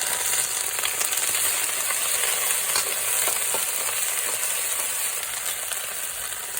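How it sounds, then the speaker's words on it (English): Chili, garlic and ginger fry in hot oil in a wok, a steady, loud, close sizzle with faint crackles throughout and no talking. "oil's heated up. So we'll go in with our chili, and garlic, bit of ginger"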